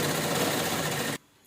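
Sewing machine running a continuous fast stitch on an old T-shirt being made into a doormat, a close, even whirr that cuts off abruptly near the end, leaving quiet.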